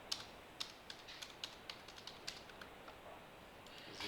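Steady keystrokes on a computer keyboard tap out a regular run of light clicks, quiet and close over a faint room hiss, with no voices.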